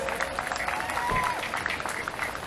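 Audience applause for the Trinidad and Tobago Fire Service at a Men's Day event, steady crowd clapping for a couple of seconds with faint voices mixed in.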